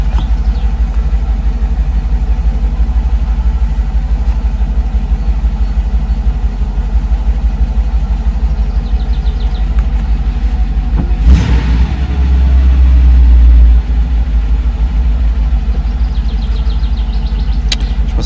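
A Mercedes 500SL R107 with K-Jetronic fuel injection idles steadily and loudly up close, a constant low engine drone with a brief blip of revs partway through.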